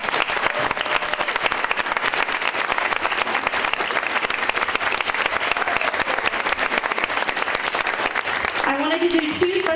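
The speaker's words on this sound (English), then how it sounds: "just have a round of applause for all the volunteers that made this night happen" Volunteers at a 2017 sheriffs' debate receive a sustained round of applause from a standing audience, dense steady clapping filling the room, with a voice breaking in near the end.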